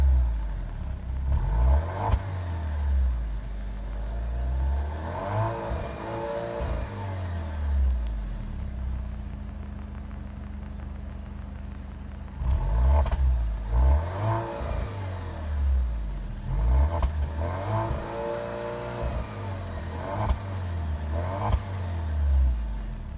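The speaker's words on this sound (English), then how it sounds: "if I were to turn it off, go ahead and start it back up. Very quick startup." A 2017 Alfa Romeo Giulia sports sedan engine cranks and catches, then idles and revs in rising and falling bursts, close and fairly loud, with a second restart partway through and no talking over it.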